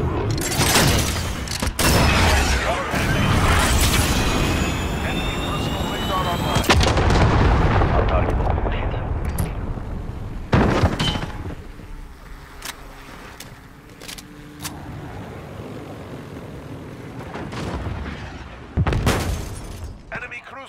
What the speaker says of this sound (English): Cruise missile go for launch.